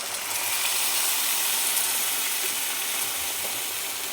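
Milk poured into a pan of vermicelli roasting to a reddish-brown, giving a steady, even sizzle and watery hiss that holds for several seconds with no talk.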